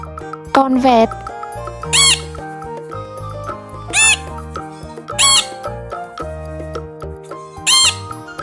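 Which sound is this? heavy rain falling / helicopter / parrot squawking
parrot squawking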